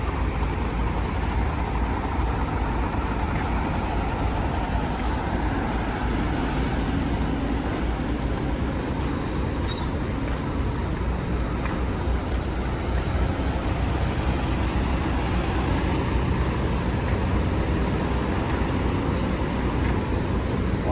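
Inside a tour bus travelling on a road in Thailand, a steady low engine drone and road rumble fills the cabin continuously, with no voices or breaks.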